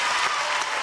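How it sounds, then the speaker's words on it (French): Studio audience applauding on a French television variety show, a short dense burst of clapping heard alone at steady loudness. "Applaudissements pour Annie Pujol"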